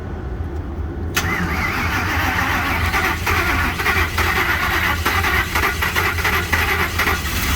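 Ford F150 engine cranking to life, then revving hard toward redline: a sharp start followed by repeated surging revs that rise and fall, loud and close, with no talking.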